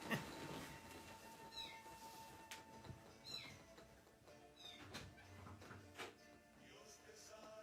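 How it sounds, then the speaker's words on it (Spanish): A cat meows at a door, giving several short, fairly faint meows spaced through a quiet indoor room with light background noise. "Ya viene el hermano gato."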